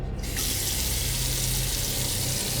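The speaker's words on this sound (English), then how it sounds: "Water. From the bathroom." Bathroom tap in a hotel room running steadily after a quick start, a continuous close hiss of flowing water with no voices.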